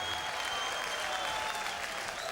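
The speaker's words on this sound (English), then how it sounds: "All applause goes to Barney." Steady crowd applause fills a darts arena at the 2003 World Darts Championship final between Barneveld and Davies, a dense, even wash of clapping that holds at full level throughout.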